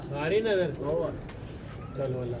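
Pigeons cooing in soft, throaty repeated phrases, fairly close, with a brief pause between bursts and a faint background hum.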